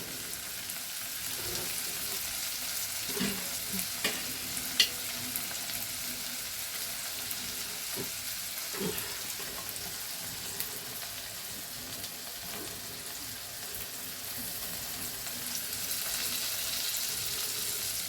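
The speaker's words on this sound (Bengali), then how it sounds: "এবার টমেটোটাকেও ভালো করে পেঁয়াজ টমেটো একসঙ্গে নাড়াচাড়া করে নেব।" Onion and tomato frying together in a pan produce a continuous sizzle with intermittent scraping stirs, close and steady throughout.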